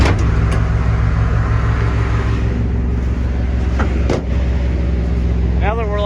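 A 1970 Ford Maverick engine runs on fast idle in snowy conditions, a loud, steady, close rumble throughout, with a voice talking over it.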